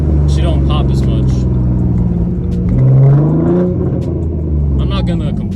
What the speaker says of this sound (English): I'm gonna give y'all some revving action in a bit.